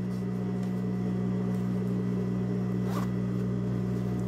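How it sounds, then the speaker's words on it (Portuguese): A zipper is pulled closed on a sewn, lined Barbie doll skirt, giving a faint, brief zip near the middle over a constant electrical hum, with no speech. "com o meu zíper já fechado aqui embaixo, eu venho e termino de fechar"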